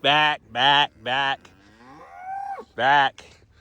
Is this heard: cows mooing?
yes